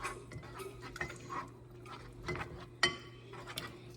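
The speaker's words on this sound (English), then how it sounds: "So I'm gonna put into this a 1/2 cup of sourdough starter and stir it around." Sourdough starter being stirred into a little melted butter in a pan for gravy, with soft utensil scrapes and occasional light clinks against the cookware, plus one sharper tap, close and quiet.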